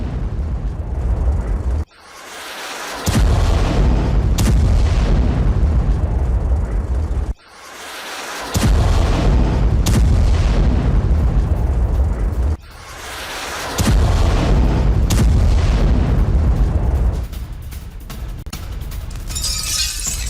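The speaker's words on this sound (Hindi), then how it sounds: "राजधानी कीव के कई इलाकों में मिसाइल से अटैक किया गया है।" Heavy blasts from a Russian missile attack on Kyiv roar in several loud, sustained bursts that cut out abruptly between them, harsh and close, with no voices.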